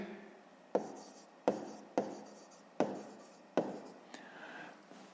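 A pen writes a sixth-grade math exercise on paper, making five or six sharp scratching strokes in quick succession, each a crisp attack followed by a brief rubbing tail, close and fairly quiet.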